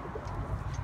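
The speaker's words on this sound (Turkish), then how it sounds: "burada da kuluçkada olan güvercinler var" Pigeons sitting on eggs in a loft give soft, low cooing, faint and muffled against a quiet room background, with no voices.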